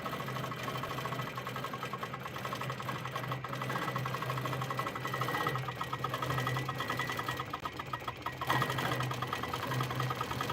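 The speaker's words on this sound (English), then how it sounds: "it has a foot pedal that you're gonna use just like you would a normal sewing machine" A HandiQuilter quilting machine stitching under foot-pedal control, giving a steady, fairly quiet mechanical whirring hum with a rapid needle rhythm that runs continuously and shifts slightly in speed.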